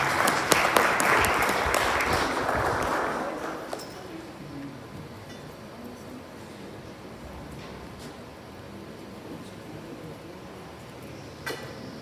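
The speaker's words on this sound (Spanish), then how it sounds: "Un aplauso." Audience applause at a church-style presentation in Pachuca, loud and dense at first, then fading after a few seconds into a quiet room with faint scattered sounds and a brief late clatter.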